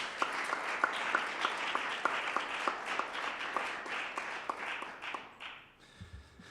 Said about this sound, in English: How about a round of applause for Dr. Schabacher?